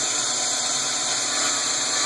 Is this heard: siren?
no